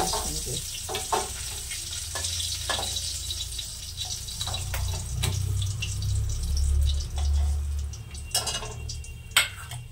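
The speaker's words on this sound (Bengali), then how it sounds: "মাছটা ভাজা হয়ে গেছে, আমি তুলে নেবো।" Tangra fish fry in hot oil with a continuous near sizzle, dotted with sharp crackles and pops and occasional stirring scrapes.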